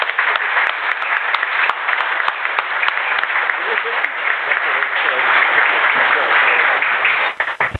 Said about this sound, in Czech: takže já mu tímto tleskám